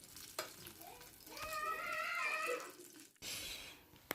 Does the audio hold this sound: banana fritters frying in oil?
yes